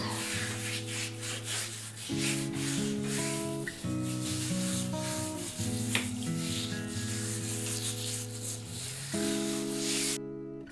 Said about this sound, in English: Scrub and really work it all around the foot.